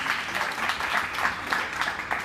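A crowd applauding steadily, a dense wash of many hands clapping at moderate loudness with slight swells, no voices standing out.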